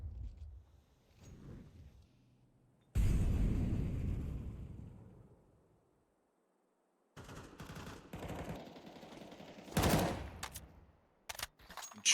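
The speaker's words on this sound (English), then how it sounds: "two sets of gunshots in mid" Gunfire in a competitive tactical shooter match, bursts of rapid automatic shots and loud blasts in separate bouts with a silent gap between, close and sharp, without talk.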